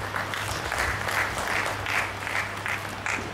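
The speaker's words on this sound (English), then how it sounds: "Can we welcome him with a round of applause?" An audience at a get-together claps steadily for a few seconds, a dense, even patter of applause with no voices rising above it.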